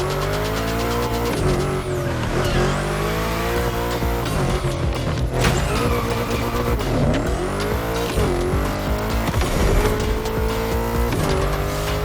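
Racing car in The Crew Motorfest on PS5 drifting through a bend, engine revving continuously with pitch rising and falling as the throttle is released and reapplied, loud and close throughout with tyre noise, no voices.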